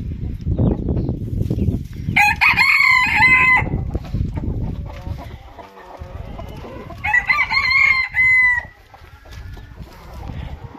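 In a backyard poultry yard, a rooster crows twice, long bright calls separated by several seconds, while hens cluck and scratch nearby throughout.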